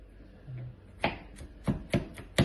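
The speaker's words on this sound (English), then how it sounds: "We're gonna use also 1 garlic. We're gonna crush it first" A garlic clove crushed for a tenderloin sauce with onion and tomato, several sharp knife-on-board knocks in an uneven rhythm, close and clear in a quiet kitchen.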